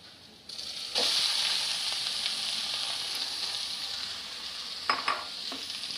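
Rice sizzling as it is tossed into a hot pan with browned garlic, a loud continuous fry hiss broken near the end by a few scraping stirs of a spoon.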